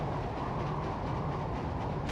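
A train passes right overhead in the 007 Everything or Nothing video game, a loud, steady rumbling roar that fills the whole moment without a break, with no voices over it.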